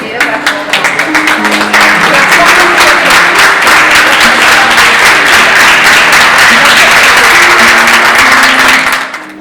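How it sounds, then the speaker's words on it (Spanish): An audience at a live painting performance in Valencia's Mercado de Colón bursts into dense, loud applause for the artist. The clapping is sustained for about nine seconds over faint tonal background music, then fades at the end. "Un aplauso sentido para su obra."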